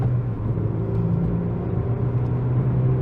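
A Renault Clio 3 RS accelerating on a 90 km/h road, heard from inside the cabin as a steady, loud low engine drone and road rumble that holds evenly throughout with no talking.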